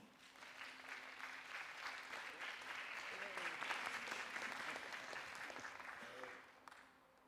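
An audience claps and cheers continuously for a Miss World contestant taking the stage, building to a peak midway and fading near the end, with a voice faintly audible over the crowd.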